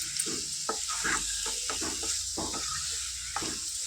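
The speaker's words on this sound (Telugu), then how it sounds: "ఈ కారం అంతా ముక్కలకి అంటుకునేలా మంచిగా చక్కగా ఫ్రై చేసుకోవాలి" Mutton liver pieces fry with chili powder in a hot pan, a steady sizzle broken by repeated scraping stirs of a spoon, close and moderately loud with no voices.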